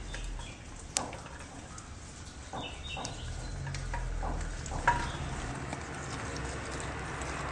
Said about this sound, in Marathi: आता ही जी डाळ आहे ती ह्या तुपामध्ये आपण चांगली मिक्स करून घेणार आहोत